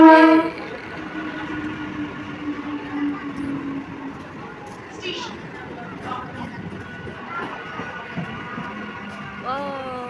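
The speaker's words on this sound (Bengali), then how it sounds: "এখন ঢুকলো রানাঘাটের গাড়ি" A Ranaghat local train pulls into Gangnapur station: a steady rumble of wheels and carriages with a short horn-like tone at the start, while people talk nearby.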